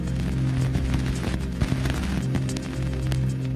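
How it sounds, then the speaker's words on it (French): Sonified dust particles striking the Cassini spacecraft's antenna near Saturn's rings: dense crackling patter of tiny impacts over a steady low electronic hum, continuous and evenly busy throughout. "Voici le bruit des poussières heurtant l'antenne de l'engin."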